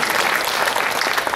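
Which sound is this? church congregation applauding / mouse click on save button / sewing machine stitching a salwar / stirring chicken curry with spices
church congregation applauding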